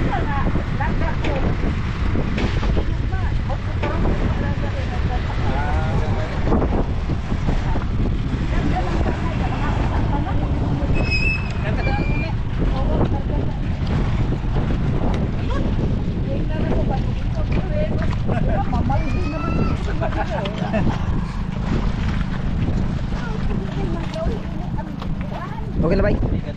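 Strong wind buffets a small fishing boat on open water, a loud, continuous rush and rumble lasting throughout, with people talking over it.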